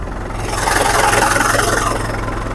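A Mahindra Bhoomiputra tractor engine idles nearby in a steady, even diesel rumble with a slight regular throb, with no voices.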